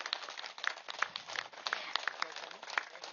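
A dense crowd of listeners claps steadily at a spiritual gathering at Prakruthi Valley, a continuous patter of many hands with brighter individual claps popping out throughout.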